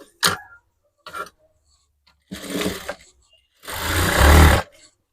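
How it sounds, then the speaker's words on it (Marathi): A domestic sewing machine runs a second top-stitch line a quarter inch inside the first on a fitted top, in short bursts of rapid mechanical whirring and ticking separated by pauses, the last run longest and loudest. "आता लागलीच आतून पाव इंच आतून दुसरी टीप मारायची आहे"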